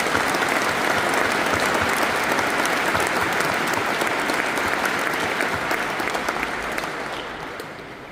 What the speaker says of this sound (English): Please join me in a round of applause for all of those that made it happen today.